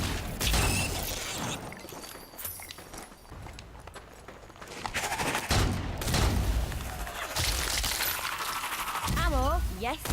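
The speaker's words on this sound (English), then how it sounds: "that's a grenade launcher" A grenade launcher fires in the video game Strange Brigade, with loud bursts of blasts and clattering impacts in repeated waves, mixed with game sound effects and a voice talking in places.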